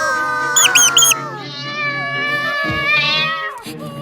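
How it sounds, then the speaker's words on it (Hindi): A cartoon cat gives a long, loud, wavering meow close to the listener, with a short cluster of squeaky cartoon sounds near its start. "उसने सोचा कि इनके उपद्रव को रोकने के लिए एक बिल्ली लानी पड़ेगी।"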